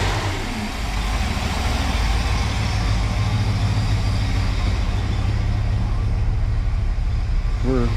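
A Mopar 383 V8 with a swapped 4-barrel carburetor, a car with a bogging, low-power fault, idles with a steady, close, deep rumble throughout.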